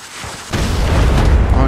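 A sudden heavy boom erupts in a Fortnite match, a single loud blast that swells at once and rolls on as a dense rumbling wash for the rest of the moment.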